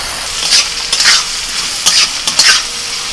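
Thin strips of carrot and capsicum stir-fried in a pan: a loud, close sizzle broken by four or five sharp bursts of stirring and tossing, with no speech.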